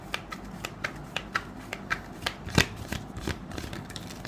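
Tarot cards being shuffled in a run of crisp, quick riffling flicks, fairly close and steady with one louder snap midway, no talking over them.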